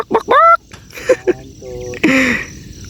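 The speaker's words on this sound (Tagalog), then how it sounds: "Ang mga manok." Chickens cluck and squawk in a few short bursts close by, with some rising calls between them.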